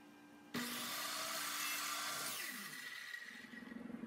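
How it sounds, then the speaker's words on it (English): A saw cuts through a quarter-inch-thick strip of scrap oak, a loud, close rasping burst lasting a few seconds that eases off as the cut finishes. "Here I'm just cutting the oak strip that's 1/4 inch thick"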